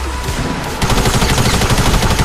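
Pump shotgun blasts in the Fortnite video game ring out loud and close, a heavy booming shot followed by rapid rolling gunfire and clattering impacts across the short span.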